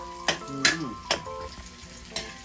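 Garlic frying in a pan, a soft sizzle broken by a few bright crackles and spatters, close and fairly quiet over low background tones.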